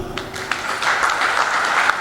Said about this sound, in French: que je vous demande de l'applaudir